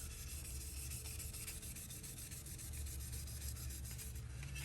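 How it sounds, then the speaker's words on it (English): Steady hand sanding of a surface in crosshatch strokes with light pressure, a soft continuous scratchy rubbing that stays even and close throughout, with no talking. "So now I'm just gonna actually cross hatch. So sand on the face of it, just in the opposite direction."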